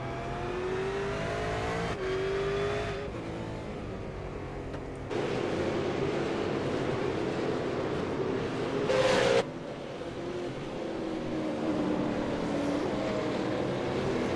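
Simulated V8 Supercar engine heard from on board in iRacing at Zandvoort, a steady droning roar with shifting harmonic whine, gear changes and a brief higher rev burst near the middle, continuous and close.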